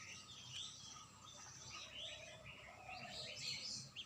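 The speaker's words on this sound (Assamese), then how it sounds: "মই চৰাই চিৰিকটি ইমানেই ভাল পাওঁ" Small birds chirping and twittering in short scattered calls, soft and somewhat distant over a low background hum, with no voices.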